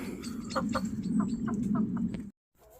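Several chickens cluck in short repeated bursts over a low, steady background murmur, close by, ending abruptly in silence.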